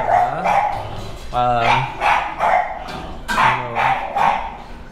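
Several dogs, including Dobermans, a Chow Chow and an English Bulldog at a kennel farm in Bulacan, bark in short bursts at close range, mixed with a person talking over them.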